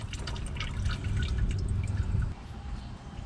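Hot engine oil drains from a 2017 Chevrolet Silverado into a catch pan during an oil change, a steady close trickle and splash with scattered drips for about two seconds before easing off.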